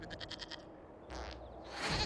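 Goat bleating in the fantasy role-playing game Dragon Age Inquisition, a short wavering bleat followed by a brief cry and rising ambient noise, fairly faint and with no talking.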